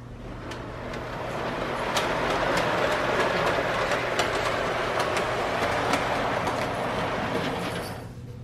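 Model trains run on a basement layout, giving a steady rolling rumble with light clickety-clack ticks along the track. The sound stays close and continuous for about eight seconds before fading at the end.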